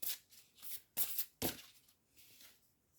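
A tarot card being drawn from the deck, heard as a few quick, close papery swishes and slides of cards handled, with no voices.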